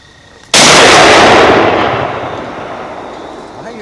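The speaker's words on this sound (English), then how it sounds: "Why do your eyes get so big when the gun goes off?" A single loud, close gunshot from a hunting gun cracks sharply out of a quiet field, then its echo rolls away slowly over several seconds.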